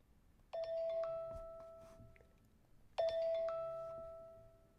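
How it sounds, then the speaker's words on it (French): A phone notification tone used as an alarm sounds twice, about two and a half seconds apart, each time a bright, clear chime with a sustained ringing note that fades out. No other sound is present. "Alors ça c'est clairement une sonnerie de notif quoi"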